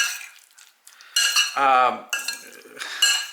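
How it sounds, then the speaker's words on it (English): Egg salad stirred with mayonnaise in a bowl, a utensil scraping and clinking against the sides in short bursts, with a brief tonal squeak in the middle; close and moderately loud with no talking. "All we have to do is mix this bad boy up"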